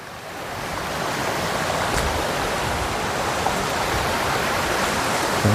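Water from a hidden spring in the forest flows steadily, a loud, close, continuous rushing wash with no voices over it.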